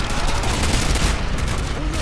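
Rapid gunfire from Call of Duty: Modern Warfare 2 (2009) rattles in a dense, continuous burst, loud and close, with a voice briefly mixed in.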